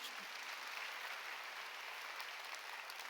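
Congregation applauding during a Korean church Sunday worship sermon, a steady, even wash of clapping that runs faint and distant throughout with no voices standing out.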